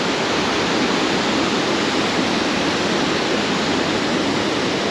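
Water pours steadily through a wooden needle dam on the Marne, a loud, unbroken roar of rushing flow with no voices over it.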